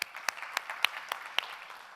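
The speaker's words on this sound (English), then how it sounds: "A thunderous round of applause," Applause at a corporate investor day event: sparse, scattered claps spaced a fraction of a second apart, fairly faint, as though only a few people in the audience are clapping, with no talk over it.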